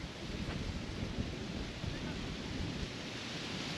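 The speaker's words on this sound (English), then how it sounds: "But even with the wind, it's a surprisingly calm day here at Sterling State Park." Wind gusting at a Lake Erie beach in Sterling State Park on a cool day, a steady broad roar buffeting the microphone throughout.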